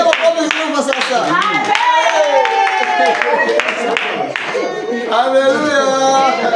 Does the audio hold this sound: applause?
yes